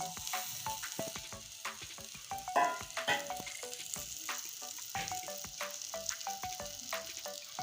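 Fried potatoes and fried lentils drop into a hot oiled pan for a taro-leaf curry, setting off a steady close sizzle with clattering stirs and a louder burst of frying as they land.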